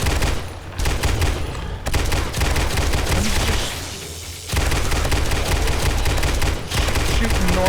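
M60 machine gun firing in the video game 7 Days to Die during a horde night, long loud sustained bursts of automatic fire with a brief pause midway, then more sustained firing.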